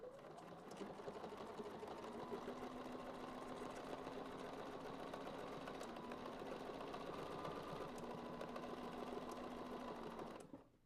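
A sewing machine stitches down a quilt channel for a fronds quilting design, running at a steady, continuous whirr close to the mic for about ten seconds before stopping abruptly.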